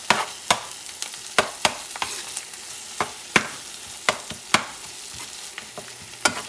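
Mexican chorizo fries in a pan and is stirred. About a dozen sharp spoon scrapes come in a loose rhythm over a soft, steady sizzle, close up.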